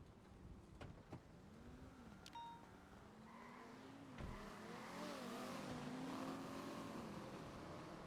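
Black four-door Raiden electric car accelerating in GTA NoPixel, a steady rising whine building after a few sharp clicks, continuous and fairly loud to the end.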